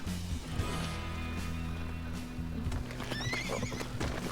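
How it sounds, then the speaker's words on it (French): In the video game Red Dead Redemption, a horse whinnies loudly near the end while hooves clip-clop steadily throughout, with a low synthetic music drone underneath. "j'adore ton cheval."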